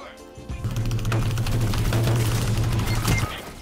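Auto rifle fire in a Destiny Trials match, a rapid continuous burst of about two and a half seconds, close and loud, with other game sounds underneath.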